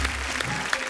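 Audience applause for long jumper Anju Bobby George on a comedy talk show stage, a brief steady patter of clapping heard alone without voices.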